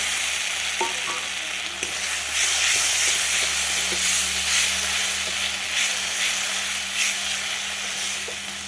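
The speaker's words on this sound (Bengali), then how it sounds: "তো এবার আমি এর মধ্যে দিয়ে দিচ্ছি ক্যাপসিকাম কুচি" Chopped capsicum fries in a pan with melted tomato and ginger for a no-onion, no-garlic soybean curry. A loud, continuous close sizzle runs throughout, broken by occasional stirring clicks and scrapes, with no talking.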